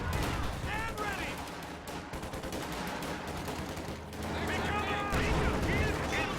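Rifle gunfire in a World War II real-time strategy game with Panzer IV and Panther tanks, rattling bursts of shots running continuously under an excited commentator's voice, denser and louder toward the end.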